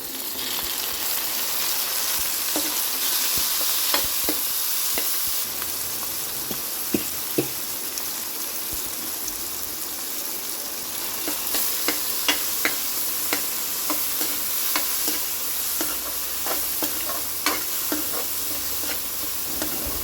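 Onions, green chillies and tomatoes sizzle steadily in a pan while a spoon stirs them, sending out frequent small scrapes and clicks over a constant frying hiss, with no voices.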